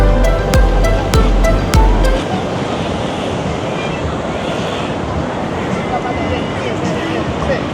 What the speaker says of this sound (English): We have where the tide's coming in here, we have like a whirlpool type thing creating.